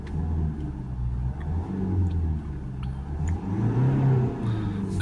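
A Range Rover Evoque 2.2 diesel engine revs up under acceleration, a loud, steady low rumble that rises and falls over several seconds, close by with no talking.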